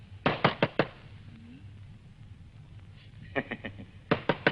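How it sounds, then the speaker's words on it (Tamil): Someone raps on a door in quick bursts of three or four sharp knocks, with pauses between groups, fairly close and loud against a quiet room. "கதவு தட்டுற சத்தம் கேட்டுக்கிட்டே இருக்குது"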